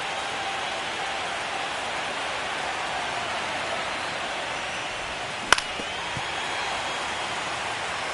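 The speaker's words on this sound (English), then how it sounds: "This rain is not letting up." Steady, dense rain hisses evenly across a ballpark in MLB The Show 25, a broad wash of sound with one brief sharp knock partway through and no voices.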